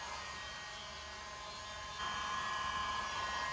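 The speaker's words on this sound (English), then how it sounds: "So use the heat gun on like a medium setting." A heat gun on a medium setting warms the plastic shifter shaft of a BMW G80 M3, a steady whooshing fan hiss with a faint electric whine, growing slightly louder partway through.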